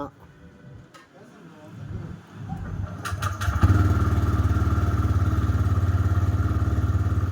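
A TVS Raider motorcycle clatters as it is cranked and catches, then settles into a loud, steady close-up idle with a rapid even pulse.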